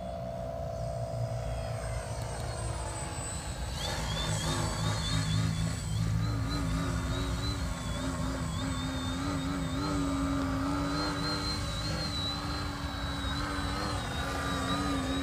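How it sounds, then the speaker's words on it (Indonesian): Steady buzzing whine of a small electric RC trainer airplane, a Mini Ugly Stick with a 90 cm wingspan, held in a hover, its motor pitch wavering up and down continuously over outdoor wind noise. "Kita coba pesawatnya buat hover,"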